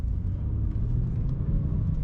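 A BMW F30 328i engine rumbles steadily at close range just after a launch-control start, with a deep, even drone and no voices.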